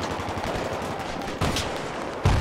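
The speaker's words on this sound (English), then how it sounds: "He's shooting so wildly." Sniper rifle gunfire in the military shooter Battlefield 3, sharp shots cracking over a dense, noisy battle mix, with a louder, closer report near the end.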